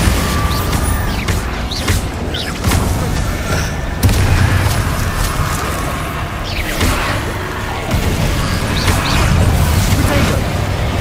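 Confringo and Bombarda spell blasts in Hogwarts Legacy on PS5 land as repeated heavy booms and crackling bursts over a dense, loud battle din, with voices shouting over the chaos.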